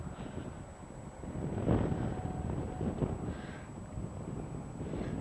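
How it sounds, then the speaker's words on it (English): Wind gusts across a microphone on top of Monk Mound at Cahokia Mounds, Illinois, a steady low rumble with swelling buffets, nearby and moderately loud, with no voices. "Very breezy up here,"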